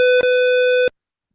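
An ESP32-based electronic safe with a display sounds its access-denied error tone: a loud, steady electronic buzz with a brief break near the start, then cutting off cleanly into silence, with no talking.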